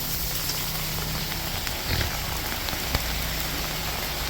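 Heavy rain pours steadily onto an outdoor work area during a pressure washing job, a dense, continuous hiss of drops striking surfaces at close range.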